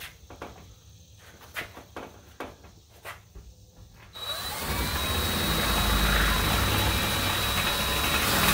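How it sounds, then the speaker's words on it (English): A power drill bores through tin sheeting while shutters are being fitted to a pole barn home. A few sharp knocks come first, then a steady, loud motor whir with a thin high whine. "All I'm trying to do is just drill through the tin."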